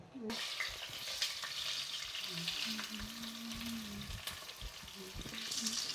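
Onions sizzling in hot oil in a pan for chicken biryani, a steady crackling fry with faint stirring scrapes, close and moderately quiet, with no voices over it.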